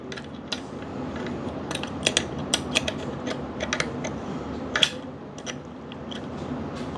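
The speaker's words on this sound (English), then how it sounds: "So now let's screw the burr back." Burr being screwed back into a DF54 coffee grinder: quiet scattered metallic clicks and creaks of threads and parts turning, close and irregular over a soft background hiss.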